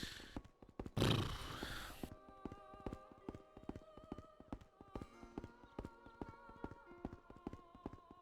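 Horse hooves in the video game Venetica stomp in a steady clip-clop rhythm, regular thuds over a faint music bed, after a brief whinny near the start.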